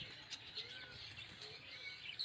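Tame hand-raised cockatiels in a Katabon market bird shop in Dhaka give off scattered high chirps and whistles over a soft, continuous background hum, fairly quiet and unhurried.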